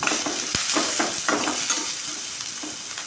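Green chilies and curry leaves sauté in oil for a cassava stir-fry, a dense close sizzle with a few scraping stirs of a spoon against the pan.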